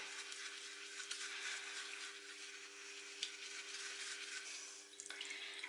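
A makeup brush rinsed and swirled in a basin of water, giving a steady soft watery hiss with faint splashes, quiet and close, with no talking.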